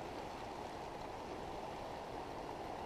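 A river runs steadily over rocks, a continuous close rushing and gurgling wash of water with no pauses or voices, cold flowing stream noise filling the whole clip.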